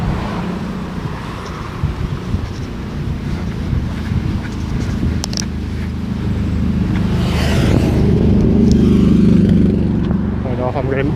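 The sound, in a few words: bus passing on the street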